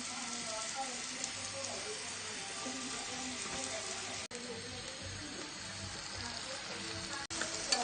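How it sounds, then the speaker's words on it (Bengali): Frozen carrot and cauliflower with other vegetables fry in a pan for noodles, giving a faint, even sizzle and hiss that runs steadily, with no talking. "এই যে এখানে এখন ভেজিটেবলগুলো এখন ভালো করে ভেজে নিচ্ছি"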